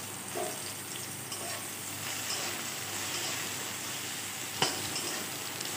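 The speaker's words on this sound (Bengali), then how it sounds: "তেলটা গরম হওয়ার পর দিয়ে দিয়েছি কেটে রাখা পেঁয়াজ কুচি" Chopped onions sizzle steadily in hot mustard oil, a dense, continuous frying hiss close by, with a faint clink partway through and no voices.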